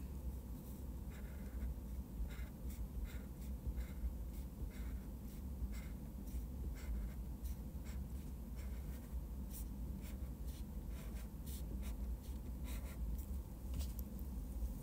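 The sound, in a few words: highlighter pen marking paper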